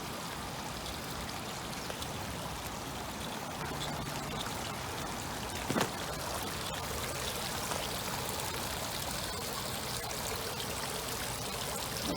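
Water flowing steadily in a wastewater treatment plant's secondary clarifier, a continuous broad rushing trickle heard outdoors at moderate distance with no talk.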